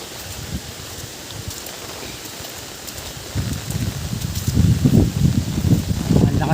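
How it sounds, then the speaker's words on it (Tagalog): Steady heavy rain hisses down on a pineapple field, growing louder and denser partway through, with gusty low rumbles of wind on the microphone. "Ang lakas ng ulan."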